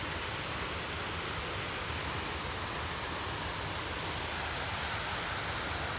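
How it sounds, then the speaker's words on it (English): A small brook flows among trees, giving a continuous broad rushing wash with no breaks or voices. "I love this little brook business here"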